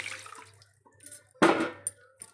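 Water goes into a pot of country chicken curry gravy in a short, close gush partway through, framed by quieter drips and light clinks of the pot.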